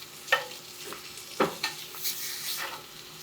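A top sirloin steak sizzles in a hot pan as it is flipped, with sharp utensil clinks and a rising crackle of frying that continues steadily, no one talking.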